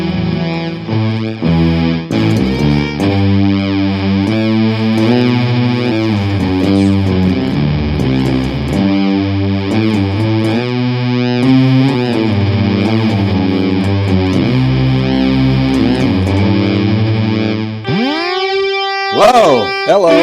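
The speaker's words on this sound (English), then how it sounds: "So you can get that organy sound in certain settings" An electric guitar runs through Electro-Harmonix and Wampler effects pedals and gives a sustained organ-like tone. Chords and notes shift steadily across the passage. It finishes with a sharp, bright, warbling effect burst and plays loudly, with no talk.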